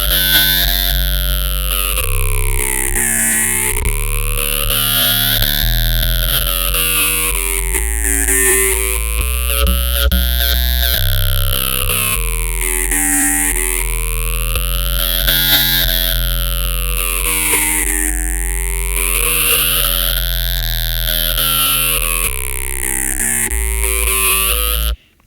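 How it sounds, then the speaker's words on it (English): Roland JD-08 synthesizer playing saturated, distorted tones in note mode, a dense, continuous wall of gritty harmonics with sweeping filter motion rising and falling in repeated waves, loud and sustained with no talking. "you can get saturated, dirty tones out of the JD-08"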